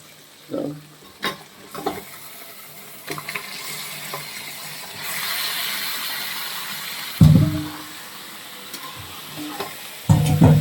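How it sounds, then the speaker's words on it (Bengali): Chicken pieces with dry chilli powder and spices are tipped into a hot pan and begin to fry, with a sustained sizzle, loud thuds and scrapes of stirring, and a clatter near the end. "এবার মাংসটা ঢেলে দেবো ওর মধ্যে"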